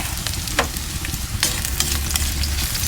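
Garlic and onion sautéing in a pan, a loud, dense, continuous sizzle up close with scattered crackles and stirring scrapes, no voices over it.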